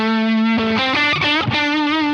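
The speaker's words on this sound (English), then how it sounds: "So this is just a super overdrive engaged" An electric guitar runs through a super overdrive pedal boosted by a 4D pedal, playing a short phrase of loud, thick, saturated notes with a held note at the start and a sustained bend at the end.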